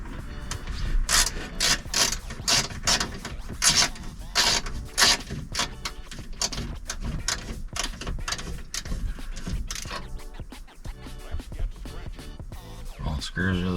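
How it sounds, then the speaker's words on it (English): A ratchet clicks steadily in quick bursts while backing the screws out of the dash trim of a 2004–2006 Pontiac GTO during a double-DIN radio install, loud and close, with a few short pauses. "And we'll just take these screws out here."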